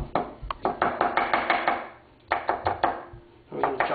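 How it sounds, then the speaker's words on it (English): Peeled garlic cloves chopped with a knife on a cutting board: quick runs of sharp, close taps that stop briefly, then start again. "we're going to chop them up"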